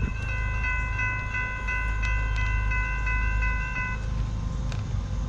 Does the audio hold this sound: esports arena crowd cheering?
no